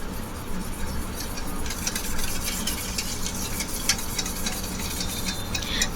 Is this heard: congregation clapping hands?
no